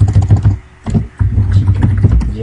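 Fingers type HTML on a computer keyboard in quick close bursts of clicky keystrokes, with a short pause before the typing resumes. No one talks.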